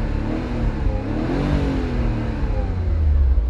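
The Ferrari-powered V8 engine of a Lancia Thema 8.32 revs hard and steadily, a loud, close, continuous roar with shifting pitch throughout.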